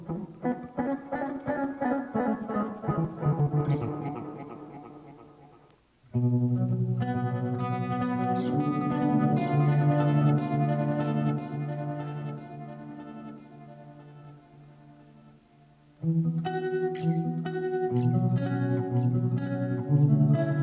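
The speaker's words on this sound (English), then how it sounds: "Clean tremolo delay." Electric guitar chords through a Spark 40 practice amp ring out clean with a pulsing tremolo and echoing repeats, two long sustained passages fading then restarting, each with a trailing wash of delay.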